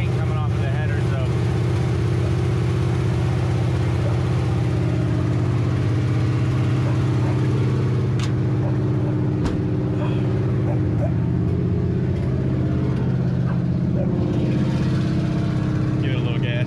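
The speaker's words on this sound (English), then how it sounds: "truck runs. It's very loud. Obviously, it's just straight headers." A 1980 Chevy K10 pickup's engine with straight headers idles loud and rough for the whole stretch, with a deep rumbling drone, heard up close and without a break.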